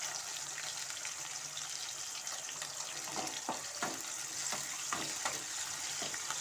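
Garlic and curry ingredients sauté in a pan for a garlic kulambu, giving a steady broadband sizzle throughout, with a few sharper stirring or scraping clatters in the second half and no talking.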